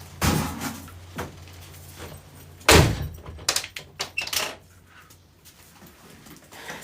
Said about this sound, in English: Let me close this door real quick because the wind picking up.